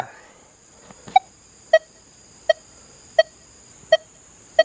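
A Manticore metal detector with M9 coil gives short electronic target beeps on a nickel, repeating at a steady pace, about six pings over a faint high whine and quiet background.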